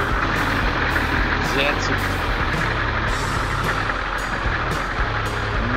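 Chevy Silverado tow truck with a 6.2 litre diesel engine, idling with a steady low rumble throughout, a voice speaking over it.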